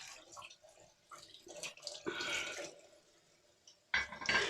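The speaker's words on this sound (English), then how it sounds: "I'll do a face wash" Water from a bathroom sink tap runs and splashes in uneven bursts during a face wash, close and fairly quiet, with gaps between the louder rinsing splashes.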